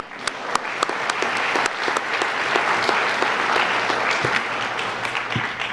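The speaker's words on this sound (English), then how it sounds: "We deserve a round of applause." A crowd at a middle school promotion ceremony applauds steadily for several seconds, dense clapping with a few sharper claps standing out nearby.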